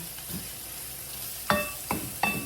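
Pork and squid stir-frying in garlic butter in a hot pan, with a steady sizzle broken by three sharp clanks of a utensil against the pan near the end.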